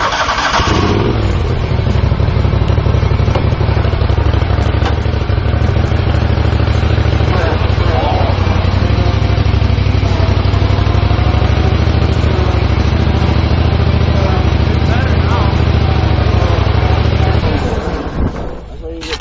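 A roller's engine cranks and catches, then runs at a loud, steady idle close by for most of the stretch before dying away at the end, with people talking over it.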